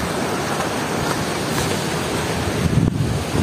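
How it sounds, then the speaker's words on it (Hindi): A clear river flows through the Siran valley near Mansehra, a mountain valley. It makes a steady, close, broadband rush of water that grows a little louder toward the end, with no voices. "पीछे आवाज़ आ रही होगी आपको पानी की।"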